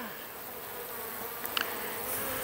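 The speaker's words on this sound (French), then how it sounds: "Il y en a beaucoup d'abeilles." Honeybees buzz steadily around an apiary hive, a soft continuous drone of many insects with a few brief clicks near the end and no talk.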